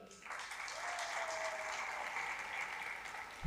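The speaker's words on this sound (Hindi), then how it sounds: "वहीद मुराद के लिए तालियां।" Applause from a conference audience in Karachi rises quickly into a sustained, fairly distant wash of clapping that holds steady for a few seconds.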